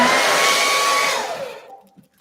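Hair dryer blowing loud and steady near a painting session, then switched off so its rushing whoosh winds down and fades to near silence within about two seconds.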